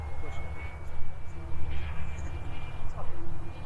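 A tiny Xicoy X45 turbine jet engine on a Swift turbine glider whines steadily at a distance, a thin high tone running throughout under broad rushing noise, with people talking nearby.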